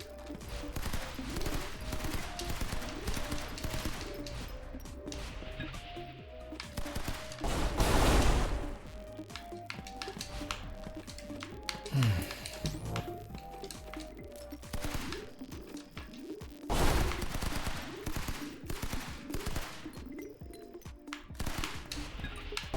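Gunfire in the video game Alkali comes in rapid bursts and fusillades, with a few louder blasts standing out against a continuous electronic background. No one speaks.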